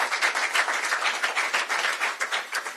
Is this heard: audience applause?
yes